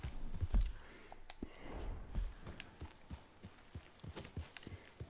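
Horse hooves walking in the Red Dead Redemption 2 video game, a soft uneven clip-clop of steps at moderate distance, with no talk over them.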